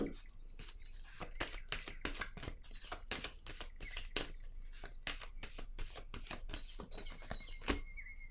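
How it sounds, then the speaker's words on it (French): Tarot cards are handled and laid on a table, making a rapid string of soft papery slaps and shuffles. The sound is close and quiet, repeating steadily throughout, and no one speaks. "Je vais déposer une autre carte ici."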